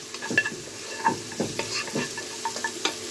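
Garlic and two kinds of pepper fry in a hot pan, a steady sizzle broken by repeated scraping stirs at a close, moderate level.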